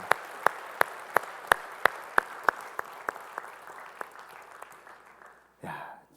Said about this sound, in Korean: 우리 찬양 받으실 주님께 영광의 박수 올리겠습니다.